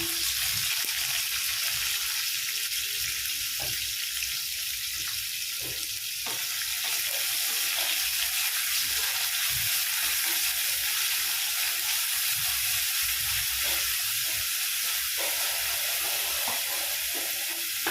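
A large chopped onion fries in oil, a loud, continuous close-up hiss with occasional scraping clicks of stirring running unbroken throughout.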